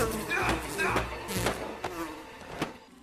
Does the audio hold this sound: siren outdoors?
no